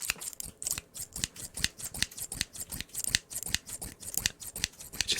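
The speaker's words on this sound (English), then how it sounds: "heavy old school scissors made out of FE" Heavy old-fashioned iron scissors snip through paper in a quick, steady series of close, crisp cuts, each blade closure sharp and distinct, with no voices.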